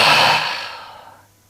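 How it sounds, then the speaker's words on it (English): A single long, deep exhale during a yoga exercise, breathy and close, starting strong and fading gradually over about a second and a half. "We're going to take a couple of breaths here."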